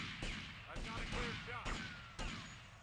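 Enemy gunfire in GTA Vice City, a few sharp shots cracking out at irregular intervals over game noise while someone talks throughout.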